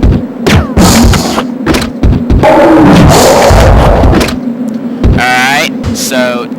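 Acid rounds fire in the video game Resident Evil Code: Veronica X as a series of sharp, loud bursts and thuds with a longer noisy impact in the middle, while a voice talks over parts of it.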